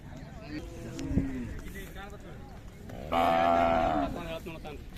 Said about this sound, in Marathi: अशा प्रकारची खिल्लार गाई